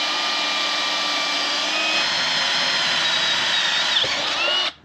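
A power drill bores a hole through angle iron, giving a steady high whine that runs nearly five seconds, close and loud, then cuts off abruptly, with no talk.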